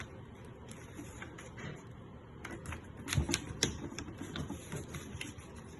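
A sheet of origami paper being folded in half for a flapping bird, giving soft papery rustles and crinkles with a firmer crease press in the middle, close and fairly quiet.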